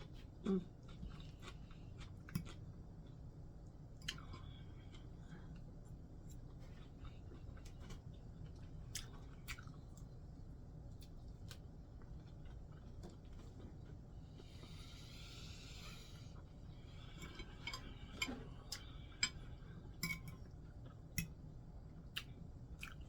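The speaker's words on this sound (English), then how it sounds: "And now I'm going to eat mine." Fried cabbage with turkey sausages and Cajun shrimp seasoning being eaten, with soft, close chewing and small bites repeating irregularly over a quiet, steady background hum.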